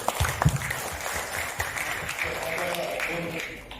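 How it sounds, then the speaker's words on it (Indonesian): Applause for members at the opening of a trade union congress, a crowd clapping in a large hall, the clapping mingled with voices and loud at first, then settling into a continuous wash. "Aplaus dulu buat kawan-kawan Gartek"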